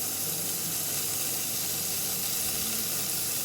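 Shallots, ginger-garlic paste, curry leaves and green chillies frying in oil for a mutton curry, making a dense, continuous sizzling hiss with no pauses, close and even.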